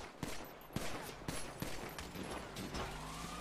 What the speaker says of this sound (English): Why are they shooting?